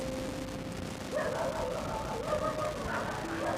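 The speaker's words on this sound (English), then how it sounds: "and the dogs are barking." Dogs bark in short yips and whimpering cries, fairly close, repeating irregularly over a steady background hum with no talk.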